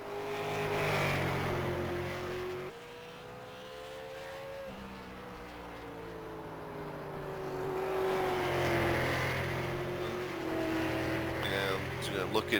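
Super Late Model race cars, including a Toyota Camry, running laps of a short track in the iRacing sim; engines drone and shift pitch steadily throughout, with a race commentator talking over them.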